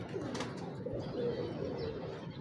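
Breeder pigeons coo softly in a loft, low murmuring calls repeating under a steady background hum, faint and close.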